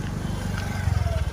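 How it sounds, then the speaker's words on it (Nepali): Motorcycle engine puttering nearby in a narrow village lane, a low steady throb that grows slightly louder and more pulsing toward the end, with faint background sounds. "यो उताबाट मोटरसाइकल आउँदैछ"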